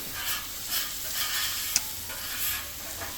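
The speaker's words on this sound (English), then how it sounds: "I do keep moving it front to back on the griddle, and I scrape the griddle as I go just to keep it clean." BBQ chicken thighs frying on a griddle, a steady close sizzle with soft scraping and stirring strokes as the meat is moved and the surface scraped, plus one brief metallic click.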